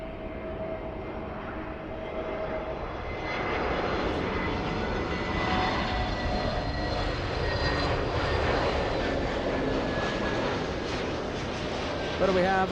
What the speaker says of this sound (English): We have Delta Airlines flying to Austin, Texas. That's the small A319.